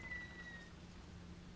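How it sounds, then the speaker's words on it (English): Raindrops patter against a window in Fatal Frame: Maiden of the Black Water, a faint steady rain hiss with a thin whistling tone fading early, heard alone without voices. "The sound of raindrops in the window echoes faintly."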